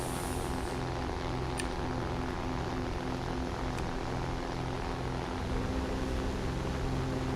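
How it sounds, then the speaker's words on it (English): A propeller plane in the video game War Thunder strains at full power, a steady, dense engine drone with a constant propeller hum that holds level for the whole span. "This plane is struggling"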